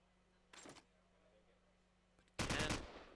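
Gunfire in a competitive shooter match: two short bursts of rapid shots, a faint one early and a louder, sharper volley near the end, over quiet game ambience.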